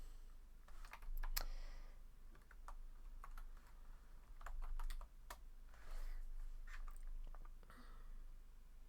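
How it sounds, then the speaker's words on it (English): Someone types quickly on a computer keyboard during a hacking exercise, with short bursts of sharp key clicks separated by brief pauses. The keys sound close and fairly loud, and no one talks. "I'm typing in the wrong place, in the middle of the notes"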